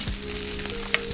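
Pork cheek starts to sizzle in a dry pan with no oil, rendering its own fat for carbonara; a soft, steady frying crackle fills the short moment, close and alone.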